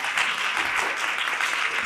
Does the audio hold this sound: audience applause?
yes